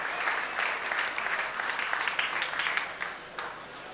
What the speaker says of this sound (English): Big round of applause for Carbon, Puckett, DMAC, Nexy.